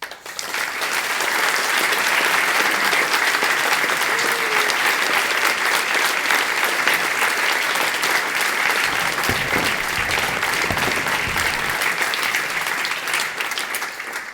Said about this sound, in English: So please clap your hands for our sponsors.